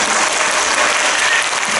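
An audience at a cultural event and film talk applauds a guest, giving a loud, dense wash of clapping that holds steady for a brief moment, with no voices.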